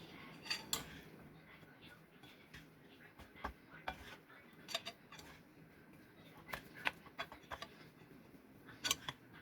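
Chopped coriander leaves are stirred into egg rice with a utensil, giving light, scattered clinks and scrapes against the pan at a quiet, close level over a low background.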